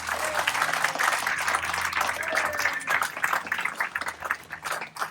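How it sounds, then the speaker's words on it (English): A crowd claps steadily at a monument unveiling ceremony for a 7th U.S. Cavalry memorial, a dense, sustained applause of moderate loudness that continues for several seconds and tapers slightly at the end. "So I want you to please give Frank a big round of applause."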